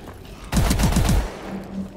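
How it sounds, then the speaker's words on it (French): Automatic shotgun in Call of Duty Advanced Warfare Exo-Zombies mode fires about five heavy shots in quick rhythmic succession, loud and close, among game ambience. "Je dirais genre, je sais pas, un fusil à pompe mais automatique."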